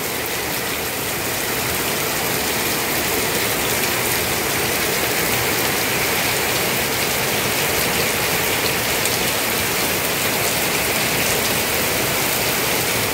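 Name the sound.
heavy rain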